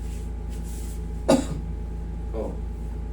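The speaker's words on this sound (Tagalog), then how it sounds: "subukan mong umubo." A single short cough over a steady low hum, followed a second later by a softer throat noise.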